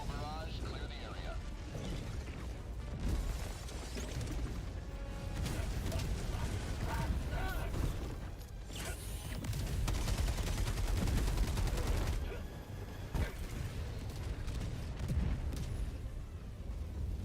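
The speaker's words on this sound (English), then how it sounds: "Firing orbital barrage." Orbital barrage strikes in the Helldivers 2 video game, a dense, continuous roar of explosions and rumbling impacts with creaking mechanical clatter, loud and sustained throughout with a swell near the middle.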